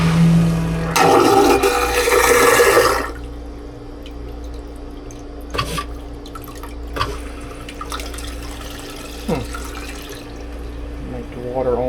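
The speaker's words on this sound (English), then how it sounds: "let's give it normal flush, see what it does" A Raritan Quiet Flush marine toilet on a Silverton 42C boat gives a short, loud rushing flush of water, followed by quieter drips and gurgles against a steady pump hum.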